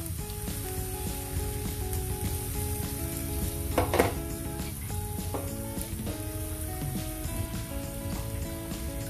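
Marinated pork steak sizzles in a pan with its marinade, a steady close crackle and bubbling with a brief louder burst of spattering midway, no voices.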